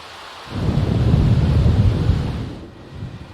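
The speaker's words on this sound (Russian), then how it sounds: "когда на улице гремел гром и бушевала стихия" Thunder rumbling during a night storm in The Sims 4, a deep rolling crash that swells and sustains, then fades with a brief low tail, with no voices.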